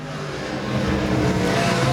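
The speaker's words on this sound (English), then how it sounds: "Gary Higgs on the inside is going to win. Gary Higgs first across the line" Super sedan race cars roar past at speed at the finish line of a feature race at Manjimup, a loud continuous engine rush that swells slightly over two seconds.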